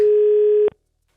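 A steady, loud telephone dial tone heard through a lifted receiver during a radio prize call, holding one even pitch for about two-thirds of a second before cutting off abruptly.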